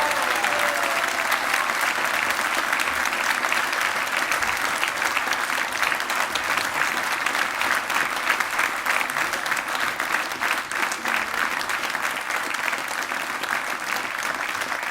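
Sustained audience applause fills a hall at a concert show, a dense, even clapping that holds steady throughout without pause.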